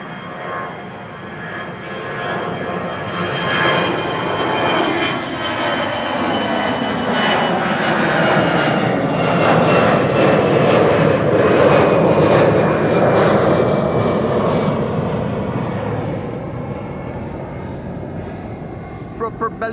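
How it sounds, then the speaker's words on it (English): An EasyJet airliner takes off from Amsterdam Schiphol bound for Liverpool, its engines a loud, sustained roar that swells and then holds steady as it climbs past, with a person talking over it. "EasyJet to Liverpool."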